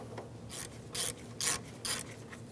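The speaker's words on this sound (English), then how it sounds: "use my 18mm wrench on the mounting nut along the back side of this" An 18mm wrench ratcheting a strut mounting nut off the back of a 2002-2009 Chevrolet Trailblazer front strut assembly, four close rasping strokes in an even rhythm, no talking.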